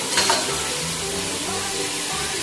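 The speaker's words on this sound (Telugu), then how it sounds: "ఇప్పుడు ఆనియన్స్ వేసినాయి కదండి, మనం కట్ చేసిన టమాటా కూడా వేసేస్తున్నాము" Chopped tomatoes and onions fry in hot oil in a pan for prawn biryani, giving a steady, close, dense sizzle with faint stirring underneath throughout.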